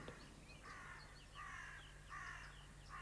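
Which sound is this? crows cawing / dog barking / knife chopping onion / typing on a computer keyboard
crows cawing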